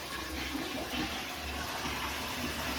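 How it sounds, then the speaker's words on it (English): A toilet in a second-floor bathroom flushes with a steady, rushing flow of water that holds at an even level throughout, close by and without talk. "Now flush the toilet so you get fresh water when you need it."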